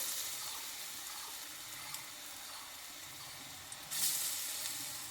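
A soft, continuous sizzle of pumpkin-leaf fritters frying in oil runs throughout, fairly quiet and even, with a brief brighter hiss near the end.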